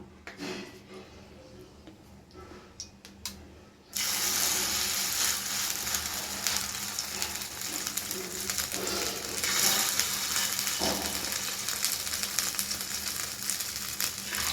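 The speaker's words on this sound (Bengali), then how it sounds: "আমাদের তেল গরম হয়ে গেছে সুন্দর ধোয়াও বেরাচ্ছে এবার তুমি দিয়ে দাও মা" Bora fritters hit hot, smoking oil with a sudden loud, broad sizzle that holds steady and close for about ten seconds after a quieter opening with talk.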